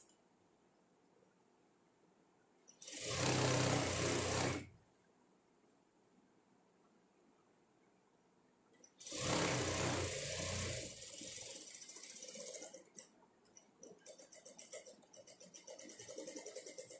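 Sewing machine stitching thin folded lining fabric, two bursts of fast whirring: a short run of about two seconds, then a longer one that trails into quieter handling noise.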